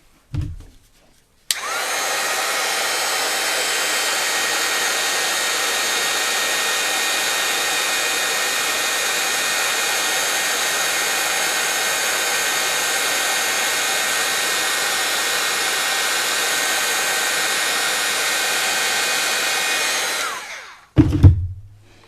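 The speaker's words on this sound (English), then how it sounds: "if you give me 1 second, I'll have it heat embossed" A heat embossing tool blows hot air onto a card in one loud, steady whoosh lasting about nineteen seconds, starting and stopping abruptly, with a few brief handling knocks at either end.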